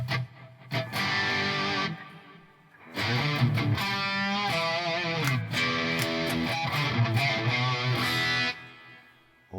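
A distorted electric guitar through a Line 6 Helix plays chords and short phrases drenched in a bright, long reverb, with tails ringing out between bursts.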